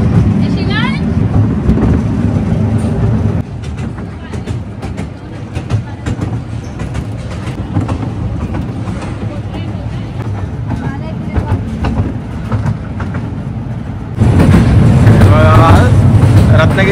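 A toy train carries riders through a garden railway in a large city park, its steady rumble and rattle running continuously and growing louder near the end, with people talking throughout.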